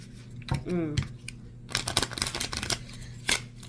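A fresh deck of playing cards straight from the box is handled up close, with crisp riffling and snapping flicks of card stock in short bursts, and a voice briefly speaking between them.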